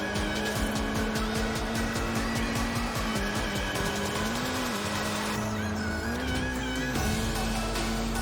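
A racing car's engine roars at full throttle in Forza Horizon 5, a continuous loud drone that rises and dips as it shifts through gears down a straight, with no talk.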